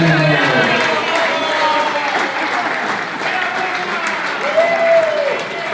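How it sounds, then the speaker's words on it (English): An audience at a men's closing day awards event claps in a loud, steady round of applause, with voices and cheering mixed into the dense clapping. "A round of applause for Wilma."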